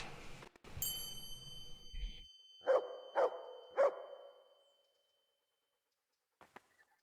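Dog in the medieval role-playing game Kingdom Come: Deliverance gives three sharp barks about half a second apart, loud and close, after some scraping and a high ringing tone, then a quiet tail of faint clicks.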